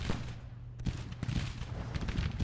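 Civil War musket volleys in an open-field firefight in a strategy video game, a dense crackle of overlapping gunshots with a few sharper reports, moderately loud and continuous.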